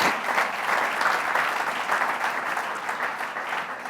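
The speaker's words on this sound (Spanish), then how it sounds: "¿Cuántos dan un aplauso a la palabra del Señor?" Church congregation applauding during a Sunday worship service, a steady, dense wash of clapping that holds evenly for about four seconds and tapers slightly at the end, with no voices over it.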